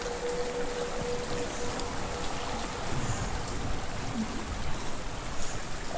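Steady rushing water from a waterfall in the video game Hellblade: Senua's Sacrifice, a continuous broadband wash that stays fairly even throughout with no speech.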